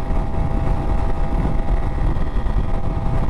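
A Honda CRF300L dual-sport motorcycle engine held wide open in fifth gear at about 9,000 RPM, a steady loud droning roar with heavy wind rush and no pauses.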